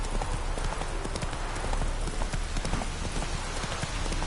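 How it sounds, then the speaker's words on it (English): Roach the horse walks in Witcher 3, its hooves clip-clopping in a steady, close rhythm over a soft wash of ambient noise, with no talking over it. "Spooking my horse. Roach doesn't like ghosts."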